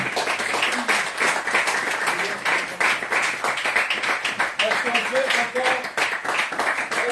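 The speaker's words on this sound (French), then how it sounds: "Est-ce qu'on peut encore acclamer le Seigneur?" A church congregation applauds steadily, dense rhythmic clapping filling the space throughout, with voices mixed in beneath it.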